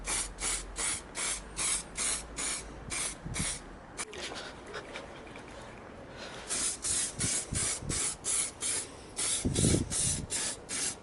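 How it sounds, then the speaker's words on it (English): Short bursts of lacquer spray hiss from an aerosol can onto a Honda Custom Cub front wheel, a rapid run of evenly spaced puffs, a quiet pause with faint handling noises, then another run of bursts. "Just need to put some lacquer on."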